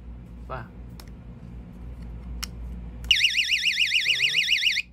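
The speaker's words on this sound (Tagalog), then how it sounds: "Pang alarm, pambugaw sa mga magnanakaw ng motor." A motorcycle's wireless vibration anti-theft alarm wails loudly in a rapid warbling siren pattern for a couple of seconds, preceded by faint clicks and a brief chirp.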